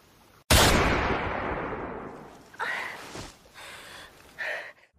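A single loud gunshot cracks out in a film scene, its boom decaying over a couple of seconds, followed by a few shorter bursts of sound and a faint breathy gasp.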